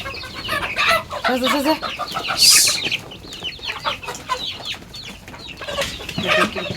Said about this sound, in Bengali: কিরকম বাজাইছে সব মুরগি